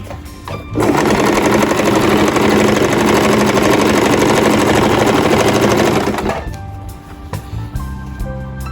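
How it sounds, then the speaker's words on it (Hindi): A sewing machine runs a steady, loud straight stitch along a shalwar belt seam for about six seconds, then stops, leaving quiet handling sounds. "इस जोड़ के साथ मिलाकर मैं सीधी सिलाई ले जाऊंगी।"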